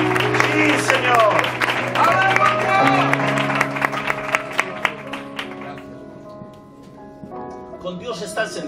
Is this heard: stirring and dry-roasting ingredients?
no